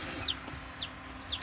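Newly hatched chicks in an incubator give three sharp, high, downward-sliding peeps in a steady rhythm over a constant hum, close by with no talking.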